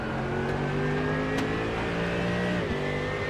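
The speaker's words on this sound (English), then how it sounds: "listening to the Mercedes being slammed through the rev range, up then down through the gears, in through the braking zones once again" Mercedes race car engine in the iRacing sim at Fuji International Speedway, revving hard up and down through the gears and blipping on downshifts into a braking zone, loud and steady with no voices.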